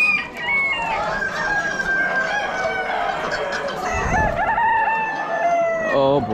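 Rhode Island chickens clucking and crowing at an Amish livestock auction, several birds calling and overlapping continuously at close range with repeated rising crows, loud throughout.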